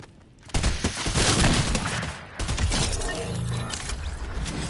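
Lever action rifle fire in a Fortnite match cracks out in a couple of loud, close shots with mechanical clatter between them.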